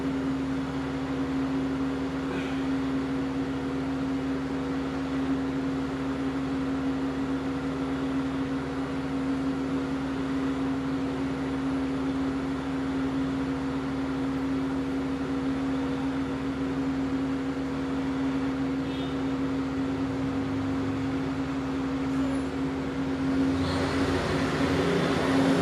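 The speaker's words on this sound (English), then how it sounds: "there's a truck outside" A truck outside produces a constant low engine drone with a steady hum, muffled as if heard from indoors, lasting the whole stretch with no talking.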